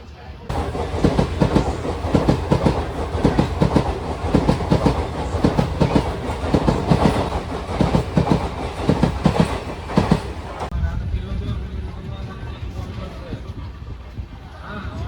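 The Tirupati–Kollam Express runs along the rails with loud, rhythmic clickety-clack of wheels over joints for about ten seconds, then settles into a steadier, quieter rumble inside the moving coach.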